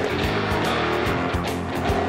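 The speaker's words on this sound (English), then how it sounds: "This 1957 Chevy came with a straight 6, 3 on the tree, and drum brakes all the way around" A 1957 Chevy with a straight-six engine and three-speed column shift drives along, its engine note rising and falling through rhythmic revving pulses, heard from inside the car and fairly loud throughout.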